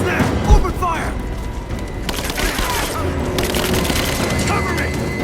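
Bursts of gunfire in Rise of the Tomb Raider crackle in dense, overlapping volleys with a heavy thump near the start, running steadily throughout under shouted voices.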